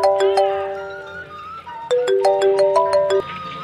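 A mobile phone rings with a bright, repeating electronic melody of stepped tones, loud and close, playing alone without voices for several seconds.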